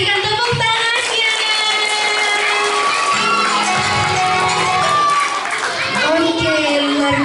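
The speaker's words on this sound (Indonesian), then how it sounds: "berikan tepuk tangannya" Loud, sustained cheering and clapping from a crowd, with children shouting, fills an evening Ramadan awards celebration for children at Masjid Annur mosque in Menganti, Gresik, the roar steady throughout with voices rising over it.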